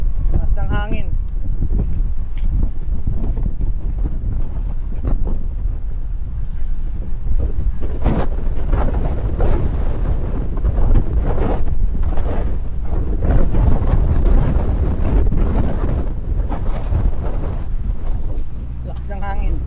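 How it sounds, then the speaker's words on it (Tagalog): Strong gusty wind buffeting an outdoor microphone on a Toronto street around Chinatown, heavy low rumbling bursts that swell and fade continuously, with a person talking at times under the noise. "Lakas ng hangin."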